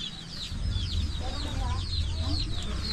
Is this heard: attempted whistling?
no